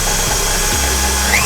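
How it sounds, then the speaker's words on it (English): A hand mixer whirs steadily through vegan apple crumble cake batter in a bowl, a loud continuous motor drone that shifts pitch partway through. "And now we have to mix it well again."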